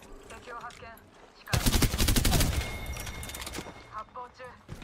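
A sudden burst of rapid, loud gunfire in the game Apex Legends rattles for about a second, then fades into a softer echoing tail, with a voice talking before and after.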